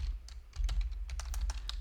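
Someone types on a computer keyboard during a live market-analysis stream, producing close, irregular bursts of sharp key clicks.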